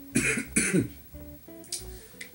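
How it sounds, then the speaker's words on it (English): A person coughs twice in quick, harsh bursts, followed by softer throat-clearing sounds and a couple of faint clicks, close and alone without speech. "I can't even do reference humor well because I keep coughing."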